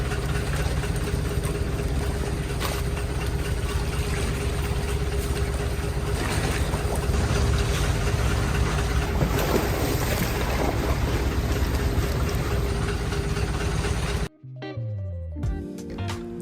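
A long-tail boat engine drones steadily with broadband rush of wind and water, then cuts off abruptly near the end as a different sound takes over.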